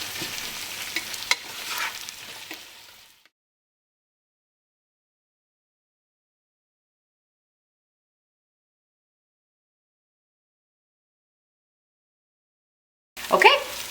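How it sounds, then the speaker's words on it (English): Onions sauté in a pan for a pork curry with a few seconds of close sizzling and stirring. A long silence follows, and a short burst of sizzle returns at the very end. "Our onions are sauteed, so now it's time to add the pork."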